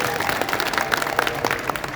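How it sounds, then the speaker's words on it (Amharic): A crowd at a religious gathering claps, making dense, continuous applause with some voices mixed in. "ማርያምን አጨብጭቡ።"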